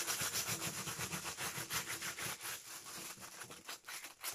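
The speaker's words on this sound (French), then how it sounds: "avec son doigt, on va bien frotter pour faire apparaître le relief du dessin que nous avons préalablement fait à la colle" A finger rubs firmly back and forth over paper laid on a raised glue drawing, a quiet, close, rhythmic scratchy rubbing that repeats steadily throughout.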